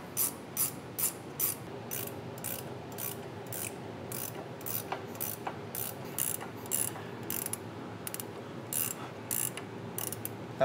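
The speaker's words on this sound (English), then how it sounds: "we're going to tighten this up until the bushings reach the same width as the metal washers" A ratchet tightening a sway bar end link bolt and its bushings on a truck: steady rapid clicking in repeated short strokes with brief pauses between them, close and fairly quiet, with no talking.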